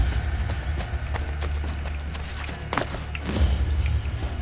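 Horse hooves galloping in Assassin's Creed Brotherhood, a quick rhythmic run of thudding clip-clops close by, moderately loud and steady over a low rumble, with no voices.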